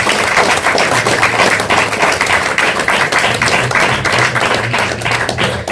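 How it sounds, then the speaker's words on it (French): Dense, loud applause from an audience at a literary prize ceremony, many hands clapping steadily for several seconds without a break. "Je vous demande de l'applaudir."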